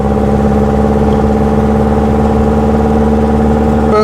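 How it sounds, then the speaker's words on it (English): A 1930s Lancia Aprilia engine labours in top gear up a very steep hill, a loud, steady droning hum with strong low harmonics held evenly throughout, no voices. "the little engine working hard up this very"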